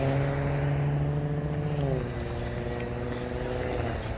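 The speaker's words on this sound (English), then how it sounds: "There's a truck here doing a U-turn." A truck making a U-turn nearby on a road by the woods, its engine droning steadily with a dropping note as it slows, heard outdoors with a light background hiss.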